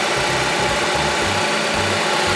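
A 2010 Dodge Avenger's engine idles steadily after a new alternator and belt, a low rhythmic pulsing hum close by, even and smooth with no talk over it.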